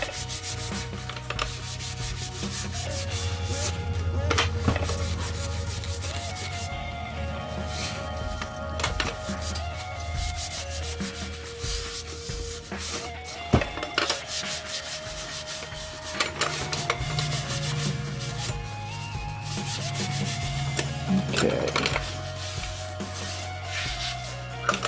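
A rag rubs paint over a drum shell in steady, continuous scrubbing strokes, with occasional brief knocks against the shell, close up and alone without talk.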